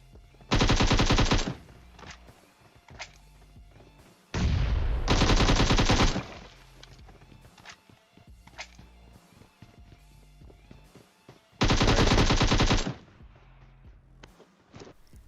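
Bursts of automatic gunfire in PUBG Mobile, three long sustained sprays of rapid shots with scattered single shots and footsteps between them, loud and close with no speech.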